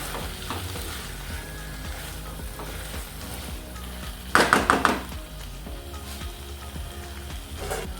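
Ground masala being stirred into tomato in a pan for drumstick masala curry, with a soft steady sizzle and a short burst of scraping spoon strokes midway.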